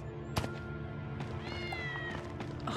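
In the video game Tales of Xillia 2, a cat meows in a short rising call over steady game background sound, with a sharp click just before.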